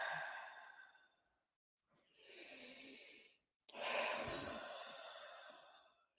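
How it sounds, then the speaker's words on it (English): Slow, deep breathing during a gentle stretch, heard up close as a long airy exhale, a pause, then a full inhale and another drawn-out breath out, quiet and alone. "Taking deep breaths"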